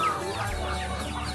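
Chickens cluck briefly at a poultry stall in a traditional market in Pundong, Bantul, with a few soft clucks over a low, busy market background.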